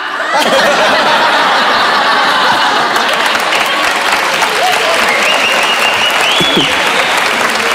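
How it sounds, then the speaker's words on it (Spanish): A comedy club audience breaks into loud, sustained applause mixed with scattered laughter and chuckles, the dense clapping filling the whole stretch close and full. "Hubo aquí como 20 güeyes que aplaudieron así de"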